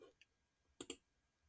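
A computer mouse clicks while working in Onshape CAD software: a faint single click, then two crisp, close clicks in quick succession, with a quiet room otherwise.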